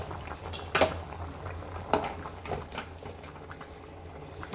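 Mutton curry gets stirred in a pot, with a couple of distinct metal clinks of the spoon against the vessel over quiet bubbling.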